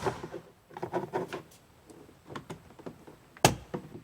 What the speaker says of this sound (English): I'm just going to pop it up and then wiggle it out.